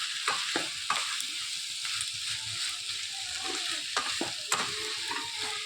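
Cooked pui shak greens stirred in a pan with turmeric, salt and cumin powder: soft, steady sizzling with scattered spatula scrapes and clicks, fairly quiet and close, no voices.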